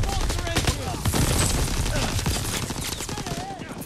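Dense Call of Duty: WWII battle gunfire, rapid overlapping rifle and machine-gun shots crackling near and far continuously, with faint shouted voices mixed under the din.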